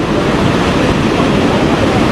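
Water rushing and crashing over a dam spillway makes a loud, steady, close broadband roar with no break.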